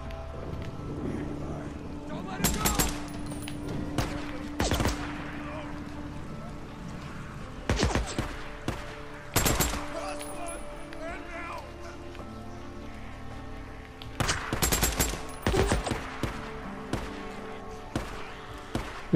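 Gunfire in the Days Gone video game, several bursts of sharp shots in clusters, with loud broadband cracks separated by quieter stretches, while a game soundtrack and voices carry on underneath.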